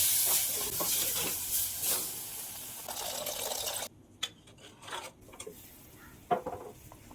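Soaked kudampuli (Malabar tamarind) water poured into a hot pan, giving a steady watery hiss and sizzle for several seconds, then quieter clinks and small splashes of pans alone with no talk.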